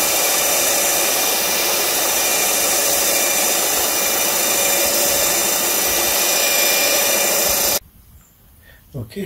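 Electric polishing machine buffing a Telecaster guitar body, a steady loud whirring drone running continuously for most of the clip before cutting off abruptly, leaving quiet room noise.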